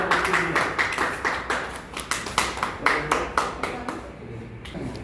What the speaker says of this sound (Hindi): तालियां करो भाई